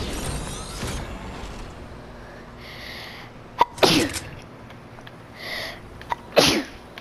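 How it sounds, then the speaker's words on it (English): Two sharp sneezes from a person during a Fortnite gaming session, the first near the middle and the second toward the end, each a sudden close burst over a quiet background with faint game sounds. "I had to sneeze."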